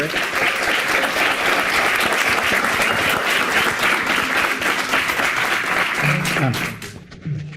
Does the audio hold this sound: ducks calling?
no